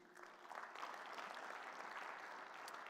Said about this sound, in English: Dr. Tsepo Mokoka, let's give him a huge round of applause.